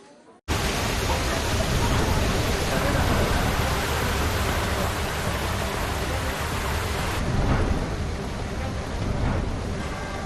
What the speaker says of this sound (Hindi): कहीं सैलाब का शोर है